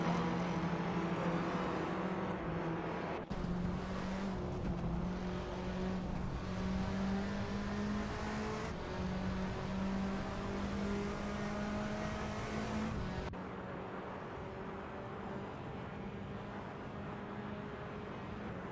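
TCR touring cars race in a video game, engines droning and revving steadily with shifting pitch as cars jostle close together, a continuous engine roar with abrupt cuts between camera views.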